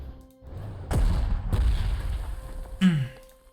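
Artillery fire in the Panzer Corps 2 strategy game: a few booming in-game explosions, two close together near the start and a sharper blast toward the end, over a low rumbling background with no talk.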